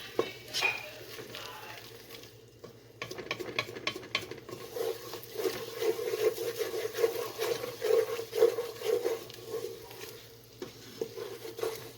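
Peppers, onion and garlic fry and get stirred in a pan with cow foot, a steady sizzle under repeated scraping and clattering stir strokes, close and moderately loud, with no talk.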